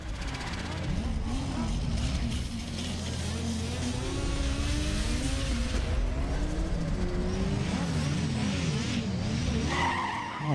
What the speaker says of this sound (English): doing donuts behind the starting line while they're already racing